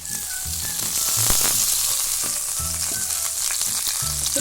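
Coriander, mint and curry leaves sautéing with softened onions in a pan give a steady, close sizzle with bursts of spatula scraping and stirring clatter throughout.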